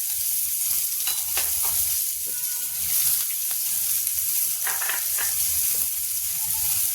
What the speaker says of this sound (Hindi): देखिए, जीरा डाल दिया है, और जैसे जीरा पकेगा तो प्याज डाल देंगे।